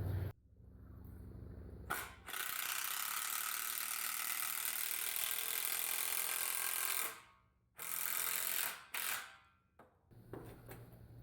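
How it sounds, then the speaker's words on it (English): A power drill drives a long 6-inch screw at an angle into a wooden garden gate frame, whirring loudly and steadily for several seconds, then stopping before a few shorter bursts. "we're going to toe screw that in there and then toe screw another one in there"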